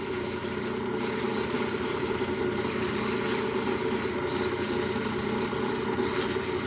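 A 150 grit sanding belt runs steadily against a workpiece in a lathe workshop, making a loud, continuous abrasive hiss and rub with faint rhythmic pulses every second or so, alone with no voices.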